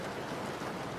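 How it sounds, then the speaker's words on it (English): Steady rain falls outdoors as a continuous, even hiss of drops on surfaces, moderately loud and unbroken for a brief moment, with no one speaking. "Well, it's rainy out here."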